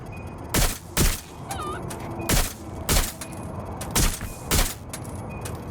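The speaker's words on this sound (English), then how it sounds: "They're shooting at us!" Gunfire in Watch Dogs: Legion: about eight sharp, loud shots in uneven pairs and singles over steady game ambience, with faint voices underneath.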